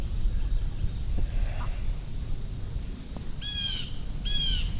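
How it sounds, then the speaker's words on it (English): Birdsong rings out near fig trees on a rural property, a few short chirps and two bursts of rapid trilling calls above a steady bed of insect buzz and low outdoor rumble. "Look at the bird."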